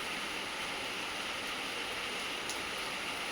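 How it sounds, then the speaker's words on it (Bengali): Heavy, steady rain falls outside on a cold day, a dense continuous hiss with no breaks, heard alone at a distance. "বৃষ্টির আওয়াজ হচ্ছে।"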